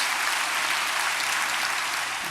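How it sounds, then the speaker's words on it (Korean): A church congregation bursts into full, steady applause, a dense continuous roar of many hands clapping together throughout. "우리 하나님께 큰 박수 올려드리십시오."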